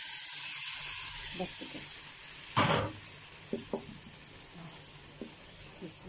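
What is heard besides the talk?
tomatoes sizzling in hot pan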